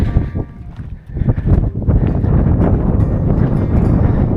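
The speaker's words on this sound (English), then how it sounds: "we're standing in the wind again" Strong wind blowing at the Spinalonga fortress on Crete, loud broadband rumble and buffeting against the microphone, continuous and close, with no speech.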